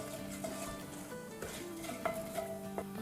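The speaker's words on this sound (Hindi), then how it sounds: "इसको थोड़ा सौटे होने देंगे" White cumin, mustard and fenugreek seeds sauté in a pan, giving a steady sizzle with light stirring and clinks of a spoon against the metal, continuous and close throughout.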